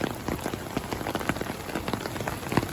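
Heavy rain from a storm near the Rathoa Haryam bridge in Mirpur falls steadily, a dense close patter of drops drumming on surfaces with no break.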